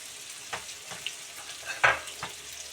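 Quiet crackling of garlic, onion and ginger frying in oil, with scattered pops and spatters, one sharper sizzle burst standing out near the middle.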